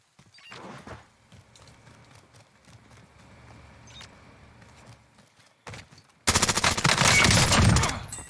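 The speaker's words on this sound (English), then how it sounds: "Yay, sentry turret." Sentry turret in Warzone Season 4 fires a sudden loud sustained burst near the end, following quieter scattered game sounds and faint distant shots.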